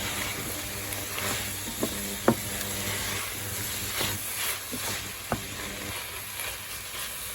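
Potato dropped into a pot of bacon and Kent pumpkin sizzles with a steady close frying hiss, broken by a few sharp clicks and utensil taps.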